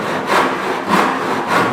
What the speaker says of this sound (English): I'm gently bringing the tenon saw back and forth.